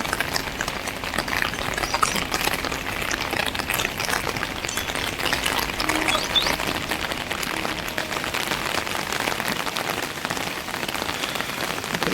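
Heavy rain pours down outdoors among green trees, a thick unbroken patter and hiss of drops striking nearby surfaces, steady and loud throughout.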